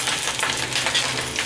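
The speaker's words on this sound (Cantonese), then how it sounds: "將頭先搓好咗嘅鹹蛋黃咧就落去" Mashed salted egg yolk hits hot oil in a wok and fries with a loud, close crackle. Bursts of sputtering and scraping rise and fall over a brief moment.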